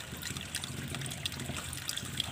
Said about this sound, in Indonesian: seperti biasa air mengalir